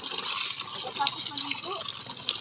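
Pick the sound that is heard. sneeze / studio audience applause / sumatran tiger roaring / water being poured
water being poured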